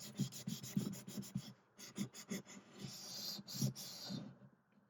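Hand buffing of Minwax finishing wax on a Fender Paramount acoustic guitar: close, quiet rhythmic rubbing strokes of cloth over the wooden body, in quick repeated passes with short pauses.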